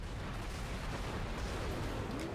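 Gunfire from the sci-fi horror game Dead Space, a continuous dense, low rumbling barrage of booming shots that fills the whole stretch at steady loudness, with no voices.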